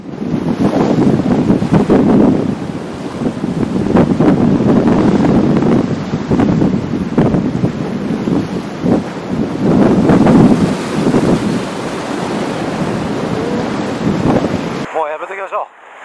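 Steady wind buffets the microphone over surf washing against a rocky shore where anglers fish for mejina, a loud, continuous roar with surging swells, ending abruptly in quiet.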